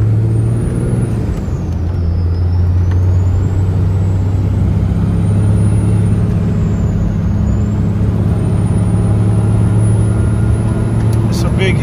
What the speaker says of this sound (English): So now we're gonna go up the big hill here just to show you what kind of power this truck has.